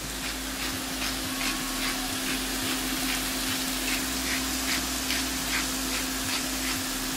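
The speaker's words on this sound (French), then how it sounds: "Pendant que ma viande est en train de cuire" Meat seasoned with chives, curry, chili and a little salt sizzles steadily in a pan for fajitas, a continuous close frying hiss with faint stirring scrapes.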